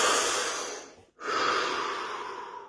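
One deep breath drawn in close to the mic, a long airy inhale that breaks off for a brief pause before the next airy breath continues, with no talking.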